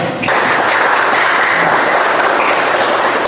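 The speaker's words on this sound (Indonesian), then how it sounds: "silakan tepuk tangan buat kelompok 3." A classroom of students applauds the third presenting group at a teacher training session, steady loud clapping that starts abruptly and continues throughout without letting up.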